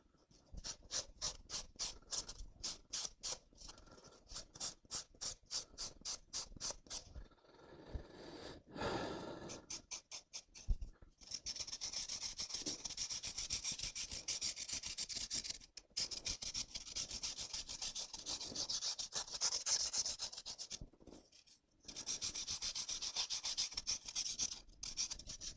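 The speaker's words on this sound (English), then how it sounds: "I think I'm going to run out of sandpaper." Hand sanding with sandpaper while finishing landscape pieces: a rhythmic series of quick back-and-forth rasping strokes at first, then longer continuous scratchy rubbing passes with brief pauses, close and fairly quiet.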